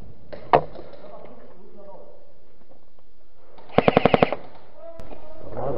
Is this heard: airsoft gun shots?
yes